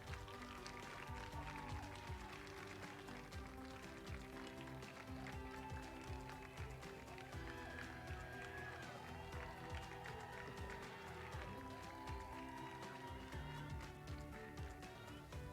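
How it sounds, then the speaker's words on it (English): Graduates at a campus graduation ceremony applaud their family and friends: dense, sustained crowd clapping that fills the hall evenly from start to finish. "please show some gratitude and applause to your family and friends"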